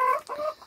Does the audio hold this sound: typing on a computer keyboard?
no